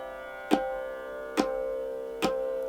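Three evenly spaced tabla tin strokes played with the middle finger touching, crisp sharp attacks over a lingering ringing tone, close and moderately loud with no voices.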